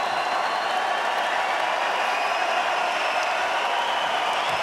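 Boxing arena crowd at a Usyk vs Bellew undisputed cruiserweight championship fight applauding steadily, a dense, even wash of clapping that holds at a constant loudness with no talk over it.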